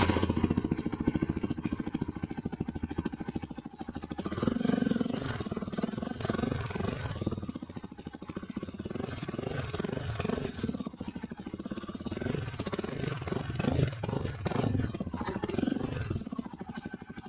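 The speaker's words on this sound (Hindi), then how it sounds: "एडवेंचर 350 का ना भाई, इसका जो एग्जॉस्ट नोट है ना" Yezdi Adventure 350 motorcycle with its exhaust note, a steady loud engine drone with irregular throbbing pulses throughout, close and alone without talk.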